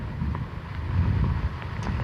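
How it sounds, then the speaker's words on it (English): Hurricane winds come in gusts, a low buffeting rush against the microphone that swells and eases without building to a sustained roar, with no voices over it. "We're just getting the gusty winds, nothing really sustained."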